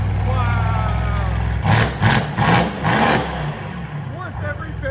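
A Mercedes-AMG C63 with a 4.0L V8 revs in a few sharp bursts over a steady idle, loud and close, while people react excitedly around it.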